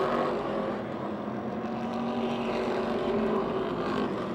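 Race cars running side by side at Motordrome Speedway, a steady loud roar of engines droning together throughout, a continuous dense wash of motor noise from the track.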